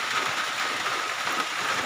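Rain falls near Burayok Mini Falls in Gattaran, Cagayan, a steady close hiss of water with no voices, even and unbroken throughout the short stretch.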